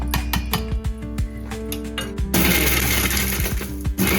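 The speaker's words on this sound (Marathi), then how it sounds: "मी आता मिक्सरच्या भांड्यात टाकते आहे." An electric mixer grinder grinds a roasted spice mix with dry ginger for amla supari, rattling with a clattering, chunky rhythm at first, then switching to a smooth, loud continuous whir close by.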